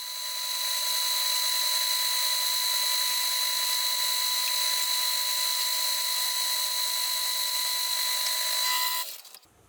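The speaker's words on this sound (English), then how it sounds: "So I'm going to run this at about 300 RPM, and that should increase the torque by about 4 times." A metal lathe turns 1045 steel at about 300 RPM while making a collet chuck, giving a steady, loud high-pitched cutting whine with ringing tones that runs unbroken for nearly ten seconds before cutting off abruptly.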